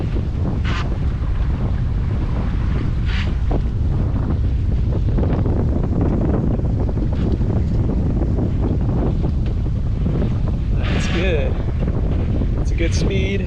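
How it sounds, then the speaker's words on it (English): Wind gusting across a microphone aboard a small sailboat under a double-reefed main, sailed single-handed on the Chesapeake Bay, a constant loud roar with water rushing along the hull and a few faint squeaks. "here comes a gust right now"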